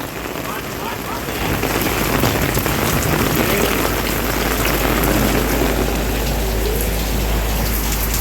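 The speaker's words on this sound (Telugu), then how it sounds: "గాలి కూడా లేదు వాన స్ట్రైట్గా పడుతుంది" Steady, heavy rain drums on a hard sheet-metal roof in a dense continuous hiss with a low rumble underneath, no voices; the rain falls straight down with no wind.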